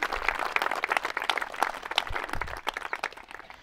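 Group of people at a morning exercise session clapping loudly, a dense, steady burst of many hands with a few voices mixed in.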